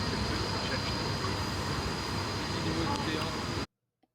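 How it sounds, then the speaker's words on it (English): Public metro cars running through Basel, a steady broadband rumble of rolling wheels and rail noise with faint high squeal, continuous and fairly close until it cuts off abruptly near the end. "Step on, step off public metro cars."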